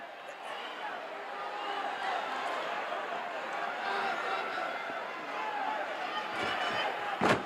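Wrestling arena crowd roaring and screaming steadily for Jimmy Snuka as he stands over Ken Patera, a dense, sustained wall of voices throughout with a sharp thump near the end.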